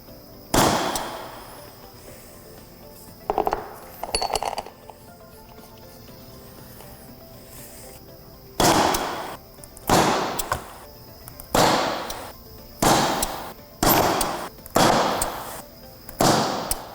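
Adhesion test studs pulled one after another off a gelcoated epoxy laminate with a PATTI meter, giving a series of sharp, close pops, a few early and then a rapid run of about seven near the end.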